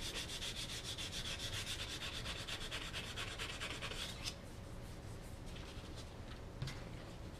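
Sandpaper rubbing over dried wood filler on a wooden surface, a steady close scratchy back-and-forth sanding with rhythmic strokes that continues throughout, easing slightly toward the end.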